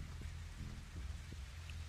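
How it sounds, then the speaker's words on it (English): Steady rain pours down in The Walking Dead: 400 Days video game, a constant close hiss with low rumbling underneath and no talk. "Oh, the rain. Won't let up today."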